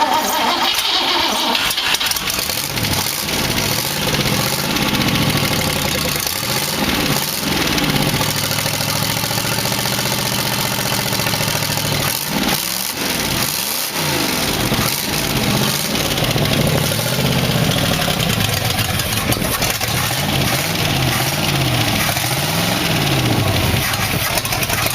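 A 1962 Oldsmobile engine in a 1914 Dodge Brothers rat rod roadster cranks, fires up and settles into a loud, rough, close idle that pulses steadily.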